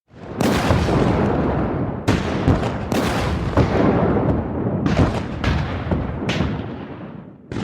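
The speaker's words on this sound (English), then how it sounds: "And that's when the cannon fire begins." Cannon bombardment at Fort Sumter: a series of heavy booming blasts, about six loud reports spaced a second or two apart, each trailing into a sustained rumble that fills the whole stretch.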